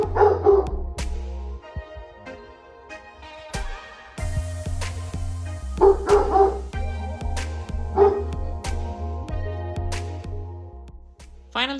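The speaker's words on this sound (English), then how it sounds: "I realized that my dog was barking" A dog barks in loud bursts, several sharp barks spaced out over the stretch, with short yips and quieter gaps between them.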